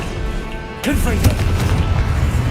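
A Confringo blasting spell goes off in Hogwarts Legacy: a sudden loud blast with a sharp crack, followed by a sustained rumbling roar and whooshing tails, close and dominant.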